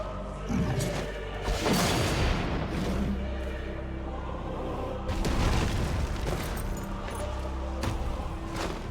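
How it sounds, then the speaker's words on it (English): Deep booming explosions from Final Fantasy XIV Endwalker thud and roll in dense bursts over a constant rumbling battle bed, loud and sustained with no talk. "Go, go, explosions!"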